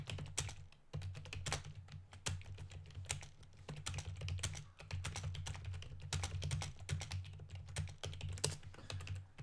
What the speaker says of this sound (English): That is what it sounds like when I'm typing.